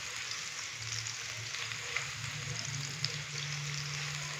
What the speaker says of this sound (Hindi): 30 सेकेंड के लिए प्याज को भी फ्राई करेंगे ताकि प्याज थोड़ा सा नरम हो जाए।